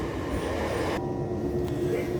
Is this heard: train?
yes